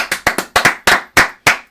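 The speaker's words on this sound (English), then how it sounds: "Clap it up for Ronald Acuna Jr." Podcast hosts clap by hand for baseball player Ronald Acuna Jr., about seven or eight sharp, close claps in an uneven rhythm, loud and alone with no talk.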